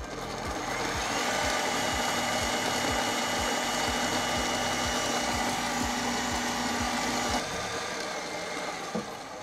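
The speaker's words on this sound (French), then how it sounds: "Je commence par faire monter tout simplement la crème directement dans le batteur." A stand mixer whips plant-based cream in its bowl, giving a loud, constant motor whir with a rhythmic beating pulse that slows and shifts slightly partway through, close up and alone.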